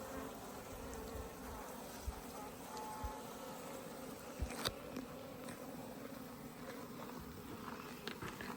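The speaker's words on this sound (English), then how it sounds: "Lots of bees." A soft, continuous buzz of many Africanized bees from a hive in an irrigation box hums throughout during a bee removal, with faint scattered knocks and rustles nearby and no talking.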